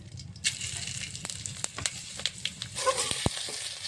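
Bay leaf and panch phoron tempering in hot oil for a prawn and taro curry, after fish has been fried: a steady close sizzle and hiss with scattered sharp pops and crackles throughout.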